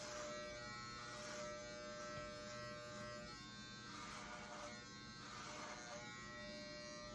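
Electric hair clippers cutting a man's hair from the top of the head, a close, steady buzzing drone that runs without a break and swells slightly as the blades move through the hair.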